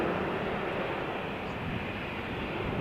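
Airliner taking off at Malaga Airport on a stormy morning: a steady, broad roar of jet engines at moderate distance, even and unbroken throughout.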